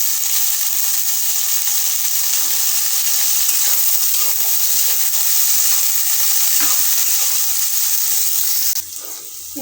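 Chopped tomatoes sizzle loudly in a frying pan, a dense, close, continuous frying hiss that holds evenly for about nine seconds before dropping off abruptly near the end.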